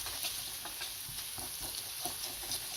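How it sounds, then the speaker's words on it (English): General Tso's tofu stew is stirred in a hot pan, with a steady sizzle under soft, irregular scraping and clinking strokes of the spoon, close and fairly quiet. "It's hard to stir and record"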